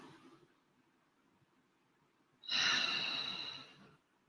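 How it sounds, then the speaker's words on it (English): One deep breath taken close and quiet, with a faint inhale early on, a pause, and then a long audible exhale lasting over a second. "And take a deep breath."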